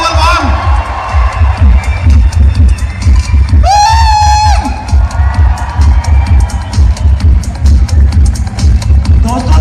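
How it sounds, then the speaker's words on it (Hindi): An audience at a business presentation claps and cheers in strong rhythmic bursts, with whoops and a shouted cry rising briefly above the rolling applause. "जोरदार तालियां हैं वहां से"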